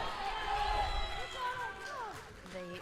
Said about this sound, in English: The crowd is very loud.